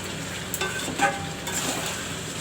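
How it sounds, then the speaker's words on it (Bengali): Chicken with a chopped large tomato sizzles in a pan for desi-style chicken kosha, a close, steady frying hiss with a few light stirring scrapes. "এই টমেটোটা এবার আমি ঢেলে দিচ্ছি চিকেনের মধ্যে। আমার হয়ে এসছে কষানো।"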